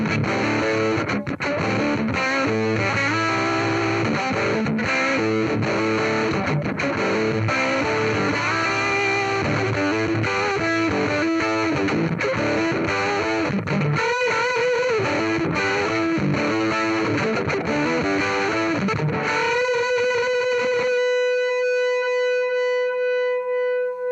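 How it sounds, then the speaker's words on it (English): Electric guitar played through an amp with distortion from a preamp tube, in a comparison of GE, JJ Electronics and Mullard tubes: a dense, loud, continuous overdriven riff with chords, ending in a sustained ringing note that fades out. "it seems like it's squaring off on the low end more, like it's really compressed on the low end, and the distortion on the high end is different"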